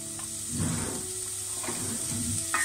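Bacon matchsticks fry in a pan for a tartiflette-style dish, with a steady close sizzle and crackle broken by a few stirring scrapes.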